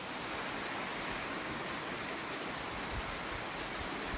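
Heavy rain pours steadily in an even, dense hiss that fills the whole stretch without a break, with no voices.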